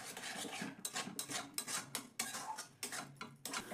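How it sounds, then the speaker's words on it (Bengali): Soaked semolina and potato dough being stirred continuously in a pan, giving repeated scraping and clinking of a utensil against the pan at a steady rhythm, fairly faint and without talk. "এবার অনবরত নাড়াচাড়া করে এখানে আলুর সঙ্গে সুজিটাকে মিশিয়ে নিতে হবে"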